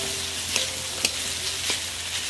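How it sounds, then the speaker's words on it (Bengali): Boiled potatoes go into a hot pan for a Kolkata-style vegetable chop and are stirred, a soft continuous sizzle with a few light clicks of the spoon against the pan. "এই আলুগুলো সিদ্ধ করা আছে এবার এইগুলো এর মধ্যে দিয়ে দিচ্ছি"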